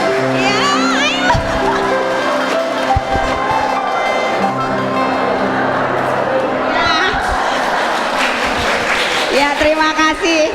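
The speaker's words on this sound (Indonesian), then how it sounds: "Tepuk tangan terus." Guests at a church women's commission anniversary celebration clap steadily and loudly beneath music, with voices and children calling out over the applause nearby.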